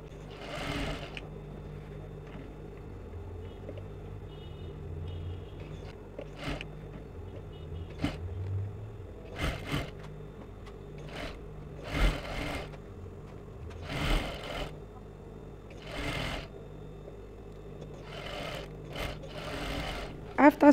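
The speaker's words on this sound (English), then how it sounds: "I'm going to place a crinoline on it, and I'm going to sew it" A sewing machine stitches crinoline onto a structured off-the-shoulder sleeve, running in several short, loud, buzzing bursts separated by pauses with quieter handling sounds in between.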